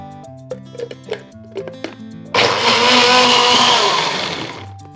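A few clinks and taps come first, then a blender whipping milk and honey for an almond milk drink kicks in with a loud, steady whirring roar that eases slightly toward the end.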